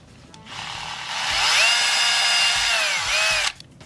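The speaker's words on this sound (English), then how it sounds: "the drill is getting really hot while drilling" A power drill, running hot, bores during a cardboard model build: a short, loud, high motor whine that ramps up, holds steady with slight pitch shifts, then cuts off abruptly after about three seconds.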